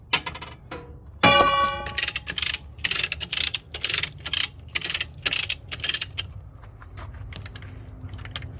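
A ratchet cranks during track replacement on a skid steer, giving a quick run of metallic clicks and clanks in repeated bursts that fade into quieter rattling at the end.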